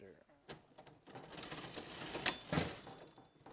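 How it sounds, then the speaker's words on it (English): A 1910 antique cash register being worked by hand, giving a busy run of mechanical clicks, clacks and ringing strikes close by, with a louder metallic burst near the end. Talk runs underneath. "This is a 1910 cash register."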